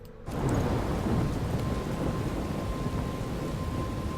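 A heavy thunderstorm in the video game Life is Strange, with steady rain hissing and a deep, sustained rumble of thunder that surges in after a brief quiet start and stays loud throughout, with no talk.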